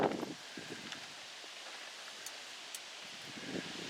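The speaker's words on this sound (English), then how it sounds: "Wind's picking up." Outdoor wind blows steadily beside a hydroponic rainbow chard microgreen setup on a screen, giving a low continuous rush with faint rustling and a few soft bumps near the microphone.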